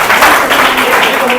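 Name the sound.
audience applause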